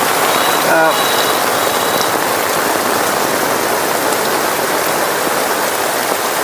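Steady rain pours down evenly, a loud unbroken hiss with no pauses and no voices.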